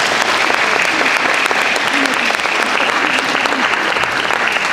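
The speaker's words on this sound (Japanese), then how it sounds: "拍手をお願いします。" A hall audience at a ward culture festival in Tsuzuki, Japan, gives continuous, even applause before a dance group takes the stage, a steady roar of many hands with a little murmur beneath.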